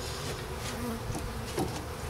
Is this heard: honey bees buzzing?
yes